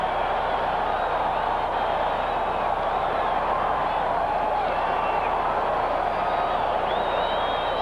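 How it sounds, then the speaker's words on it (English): A football crowd at Orchard Park in 1986 roaring after a blocked field goal in a Dolphins–Bills game, a broad sustained stadium roar heard from a distance, steady and loud throughout. "listen to this crowd now at Orchard Park come alive after the blocked field goal attempt"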